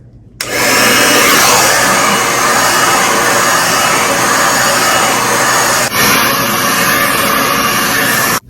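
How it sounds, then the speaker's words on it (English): A hair dryer blows at full power while hair is being dried, a loud, steady roar that starts abruptly, holds for about eight seconds with a brief change partway through, and then cuts off. "I'm about to go ahead and blow dry my hair"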